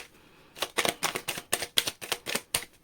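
Tarot cards are riffled in a quick run of about nine crisp, even bursts after a short pause, close and alone with no talking.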